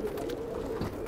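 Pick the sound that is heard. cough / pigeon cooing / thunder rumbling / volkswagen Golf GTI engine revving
pigeon cooing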